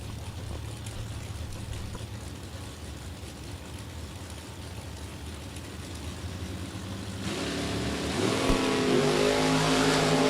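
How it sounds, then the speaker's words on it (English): At a drag strip, a 1969 Chevy Camaro and a Ford Mustang stage and launch, a low idling rumble giving way to a sudden loud roar of revving engines in the last few seconds. "Taking on Alan Walters in the Chevy Camaro, 69 model"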